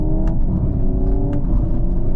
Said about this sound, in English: It sort of has this really extended pop in the exhaust where it's dumping a lot of fuel